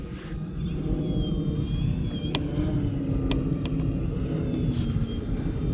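An E-flite Extra 300 1.3 m 3D RC aerobatic plane flying an inverted Harrier, its electric motor a steady droning whine throughout, with a few brief clicks over the top and no one speaking.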